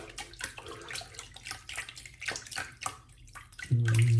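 A shaving brush is rinsed under hot running water, splashing and sloshing in uneven bursts before a steady tap stream swells louder near the end, close up with no talking.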